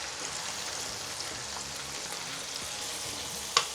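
Sliced onions hit a pan of cooked garlic and ginger for garlic chilli chicken, producing a soft, even, fairly quiet sizzle throughout, broken by one sharp click near the end; no one talks.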